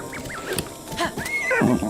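Horse in a Zelda video game, with a whinnying, pitch-sliding call and soft hoof-like thuds over game sounds, fairly loud and close.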